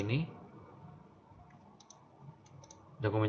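Computer mouse clicks while dragging documents in the ATLAS.ti qualitative analysis software, a few faint, sharp, close clicks between stretches of speech.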